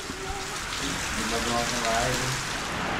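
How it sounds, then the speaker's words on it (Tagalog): Heavy rain pours down in a steady, dense hiss that lasts the whole time, while a person speaks over it. "hindi kami makapagtrabaho dahil ang lakas ng ulan"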